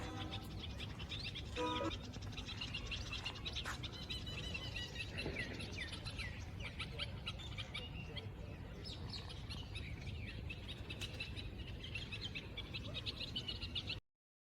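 Birds chirp and tweet continuously with many quick, bright calls over a soft, busy outdoor background.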